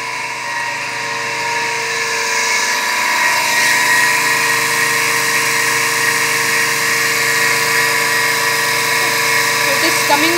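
A three-phase induction motor runs at no load near 1450 RPM with a steady, loud electric hum and whine that holds constant throughout, close by and alone.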